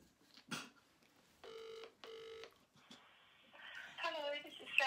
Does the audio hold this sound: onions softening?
no